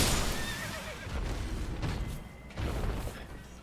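A horse whinnies over a noisy, crunchy Elden Ring game soundscape with low rumbling and scattered impacts, the neigh rising briefly near the start.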